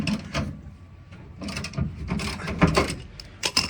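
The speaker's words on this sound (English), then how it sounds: "I'm just loosening by hand and trying not to drop this big piece of steel on my camera" Steel tow hitch bolts on a Mitsubishi Triton are loosened by hand, producing intermittent metallic scraping, rattling and knocking at close range, with no speech.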